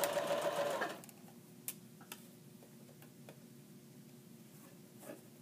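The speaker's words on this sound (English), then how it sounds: "You're reversing to ensure that your stitches are strong." A sewing machine runs in a short loud burst while reverse stitching stretchy fabric on a pant pocket, then stops, leaving scattered faint ticks and clicks.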